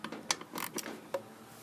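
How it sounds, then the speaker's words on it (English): A 10mm socket loosens a screw clamp holding the plastic air intake box on a 1997 Toyota Camry, giving a few faint, quick ratcheting clicks and creaks close by. "to loosen this screw clamp here that's holding this box into this plastic box onto the intake"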